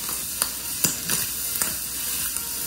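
A creamed tuna and mushroom pasta mixture being stirred in a pot, with a steady hiss and a few sharp scraping strokes of the utensil spread across the clip.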